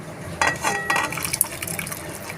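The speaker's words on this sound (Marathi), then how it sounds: "आता ही भाजी जी आहे चिकनची कुकरमध्ये बनवली ती मी याच्यामध्ये घालून घेत आहे" Chicken curry poured from a pressure cooker into a kadhai, a brief liquid splash and clatter of the pot, fairly close and moderately loud, with no talk.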